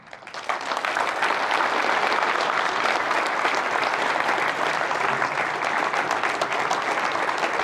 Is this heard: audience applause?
yes